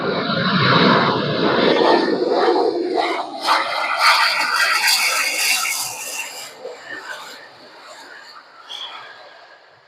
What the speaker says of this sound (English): We're gonna have a takeoff just straight ahead.